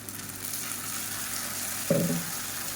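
Onions sautéing in a pan give a steady, even sizzle up close, with one brief louder clink near the end and no voices.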